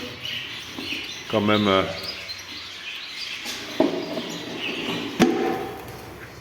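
Society finches, also called Japanese sparrows, chirp in a small aviary as short bright calls and a brief rapid twittering burst, heard beneath someone speaking French close by.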